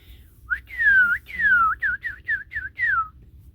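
A person whistles an imitation of a cardinal's spring song: a few long downward-sliding notes followed by a quicker run of short repeated slurred phrases, clear and close with no talking.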